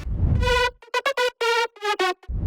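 A bright, buzzy future house synth lead plays a short melody of clipped notes with effects giving it a spacious, processed edge, alone without any voices.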